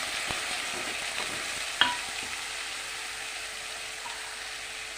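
Spice paste of ginger, cumin, chilli and onion frying in a pan with a little water and turmeric, a quiet constant sizzle with a few light stirring scrapes and one sharper clack.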